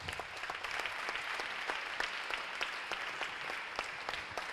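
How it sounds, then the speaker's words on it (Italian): Audience applause at the final of the Italian bouldering championship in Forlì, steady dense clapping of a crowd heard alone and fairly distant for several seconds. "E allora liberiamo un applauso verso l'alto."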